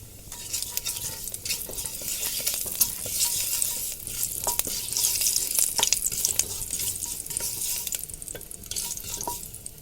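Whole cumin seeds sizzle and crackle in hot oil for a rajma curry, a steady close frying hiss with scattered pops and the occasional stirring scrape.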